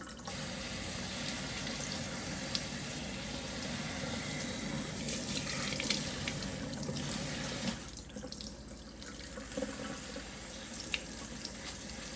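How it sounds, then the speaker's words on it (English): Tap water running steadily while substrate for starting basil seeds in a mason jar is rinsed, a continuous close splashing hiss with a brief dip in flow near the end. "Next, we're gonna rinse off this substrate."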